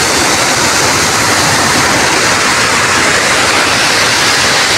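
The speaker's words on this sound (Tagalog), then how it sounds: "parang akala mo alon na humahampas-hampas" Rushing floodwater during heavy rain roars in a dense, continuous wash of noise, loud and steady like churning waves, with no voices heard.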